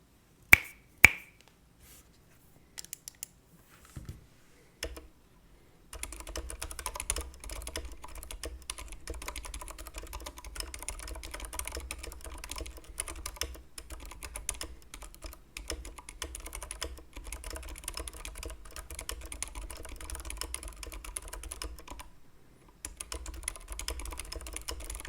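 Keebio FoldKB keyboard with Kalebox Silent Browns switches: a few loud snaps at first, then continuous fast typing with soft, muffled keystrokes, steady and close with no voices.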